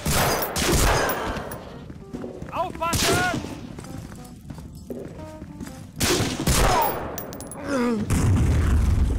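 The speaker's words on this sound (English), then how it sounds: "a couple of guys in woodland camo behind a camouflage table start shooting at me" German soldiers in woodland camouflage open fire inside a tunnel in the Medal of Honor video game, with loud repeated bursts of gunfire and booms mixed with other game sounds while someone talks over them.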